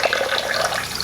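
Cloudy rinse water pours off a pot of rice as it is drained, a brief close splashing trickle with no voices.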